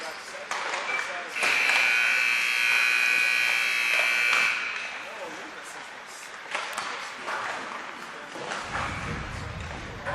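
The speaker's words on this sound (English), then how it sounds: "That's the buzzer of the warm-up ending." Ice hockey rink buzzer at a junior 15U AAA game ends the warm-up with one loud sustained electronic tone lasting about three seconds, followed by arena murmur and voices.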